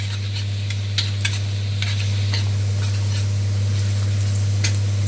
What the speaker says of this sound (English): I'm gonna fry till light golden brown